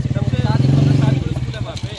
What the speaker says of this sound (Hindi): वह तू मोटरसाइकिल तो बंद कर।